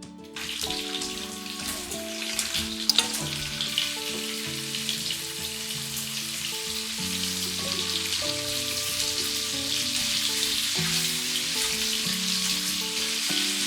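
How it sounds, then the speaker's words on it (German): Red prawns frying in hot oil in a pan, a steady close sizzle with occasional spits, with soft background music running underneath. "Garnelen von beiden Seiten anbraten."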